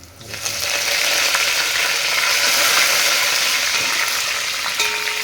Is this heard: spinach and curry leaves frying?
yes